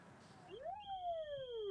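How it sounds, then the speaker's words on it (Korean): A police enforcement vehicle's siren wails as it pulls a van over onto the road shoulder, the tone sweeping up and then gliding steadily downward, fairly close and clear. "사이렌을 울리며 앞서가는 승합차를 갓길로 멈춰 세웁니다"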